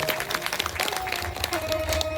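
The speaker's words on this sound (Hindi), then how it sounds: "तो जोरदार से जोरदार ताली बजाएं।" Audience clapping at a Ram Katha religious gathering, a continuous patter of many hands with music or a sustained tone underneath, moderately loud and steady for the whole stretch.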